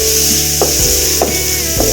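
Onions frying in a pan for beetroot rice, a steady loud sizzle with a few stirring scrapes and clicks, no voices.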